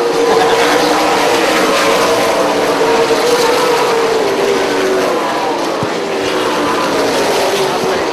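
A late model race car, Gary Padula's, slides sideways up off the corner of a short track while chasing the 48 car of Johnny K for second. The engine roars loud and steady throughout, and the crowd and track ambience stay constant underneath.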